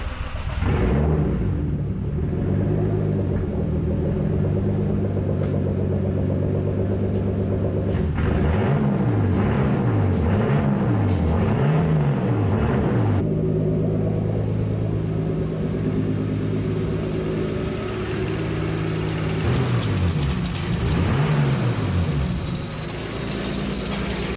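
A turbocharged BMW E36 with a broken turbo idles and revs in sustained loud mechanical rumble, with several rising-and-falling rev swells in the middle and another near the end, no talking.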